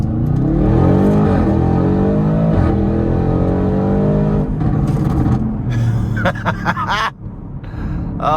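A 2021 Audi RS6 Avant with a twin-turbo V8 accelerates hard from inside the cabin, its engine note rising steadily and loudly through the gears, with brief shift breaks and some wind noise toward the end.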